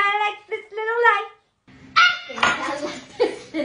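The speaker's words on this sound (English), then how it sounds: "That's my dog." A small dog yips and barks in a quick run of sharp, whiny calls, then a few louder barks follow after a short pause, close by.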